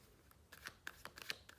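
Quiet, close riffling of tarot cards: a few crisp bursts of flicks and snaps in an uneven rhythm, no talking.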